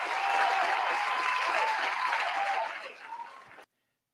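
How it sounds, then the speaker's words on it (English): A studio audience claps for Stacey Abrams in a loud, dense burst of applause that holds steady, thins out and then cuts off abruptly. "Let me go on and give her an applause."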